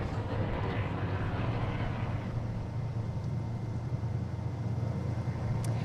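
A race vehicle leaves the start line of the Finke Desert Race prologue at Alice Springs, its engine roaring loud and close before fading into a rough, distant rumble.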